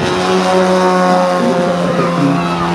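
A radio-controlled Pitts Special model biplane flies with a continuous buzzing propeller drone, loud and steady throughout, its pitch shifting slightly as it passes.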